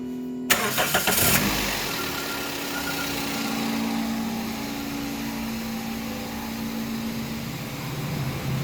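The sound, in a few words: car engine starting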